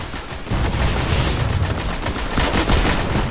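A heavy machine gun rattles in Destiny, starting after a brief quiet moment and then firing in a dense sustained burst with a thick low rumble. Nearby and loud, with no talk over it.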